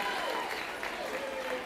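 Gala guests applaud at a charity auction, steady clapping filling the room while a voice speaks over it.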